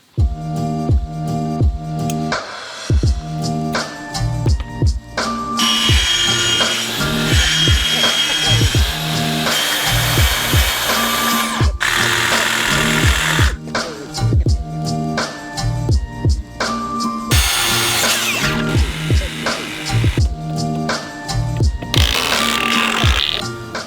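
Power tools cut and grind into composite deck boards while a notch is made during deck building: loud, close, near-continuous whining and buzzing bursts with brief pauses and scattered knocks between passes.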